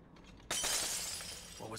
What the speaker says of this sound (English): it sounded like glass breaking